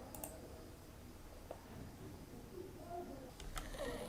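A few quiet mouse clicks tap out on a computer while choosing a proceed button during an online checkout, brief isolated clicks over faint room noise.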